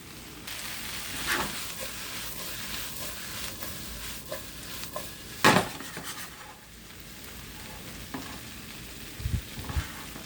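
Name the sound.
vegan frankfurter hash frying and being stirred in pan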